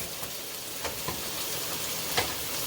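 A stick of butter sizzling in a pan with seared onions, giving a steady, even crackle with a few faint pops and light stirring, close by and with no talking.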